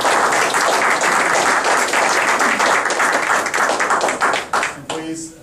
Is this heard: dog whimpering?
no